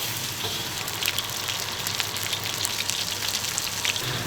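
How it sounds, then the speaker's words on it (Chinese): Pork stir-frying with ginger slices, scallion, Sichuan peppercorns and dried chili, a steady close sizzle and crackle of oil with scattered sharp pops, no talking. "一定要把那个肉炒得有点焦，"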